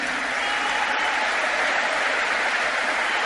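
A conference audience applauds with continuous dense clapping, loud and steady throughout, close and filling the hall without a break.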